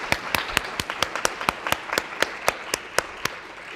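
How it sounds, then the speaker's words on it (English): Lecture audience in gender and sexuality studies applauds, with sparse general clapping beneath one sharp, rhythmic clapper striking steadily about four times a second close by. "I also have to ask for a round of applause for Takeo and Sean"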